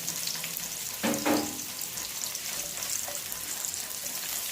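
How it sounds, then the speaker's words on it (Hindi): Onion rings frying in a pan for a potato omelette, a steady hiss of hot oil with a brief louder crackle and stir near the start, no talking. "अब जो मैंने प्याज रिंग्स में काटे हुए थे उनको मैं थोड़ा सा फ्राई करूंगी"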